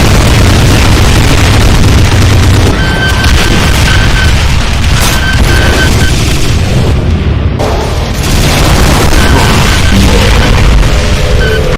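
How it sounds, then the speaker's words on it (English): A Doom mod's rocket and homing rocket barrage fired by the Vexed Nemesis Side Destroyer, a very loud, relentless wall of overlapping booming explosions and blasts lasting throughout, dense and distorted with game sound effects layered on top, with no talking. "firing the Vexed Nemesis Side Destroyer's rocket and homing rocket barrage"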